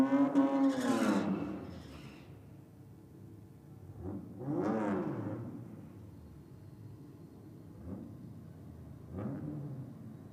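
Ford AU Falcon and Holden VF Commodore drag cars at a 2023 Nitro Champs event, engines heard from a distance in rising and falling revving surges, one strong burst at the start then several fainter roars spaced apart.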